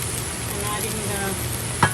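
Carrots sautéing in a pan for moussaka give a steady, close sizzle that carries through the whole stretch. Near the end comes a single brief clack.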